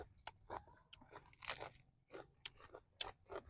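Duck blood dish with crunchy bits bitten and chewed up close, a series of sharp crunches in an irregular rhythm with no talk.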